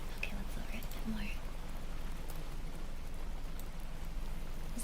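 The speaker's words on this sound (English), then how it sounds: "Alright, I'll lower the rain a little." Soft, steady rain patter fills a quiet ASMR room, a continuous low hiss at a gentle level, with faint whispery sounds drifting in over it.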